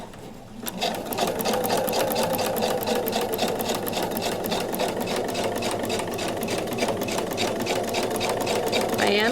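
A sewing machine fitted with a ruffler foot stitches fabric in a steady, fast mechanical whir, running loud and close almost without pause for the whole stretch after a brief start.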